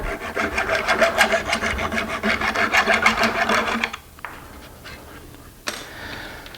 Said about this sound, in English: it's just to angle that hacksaw blade just a little bit. And this is a fine tooth one, so it's not going to cut very fast.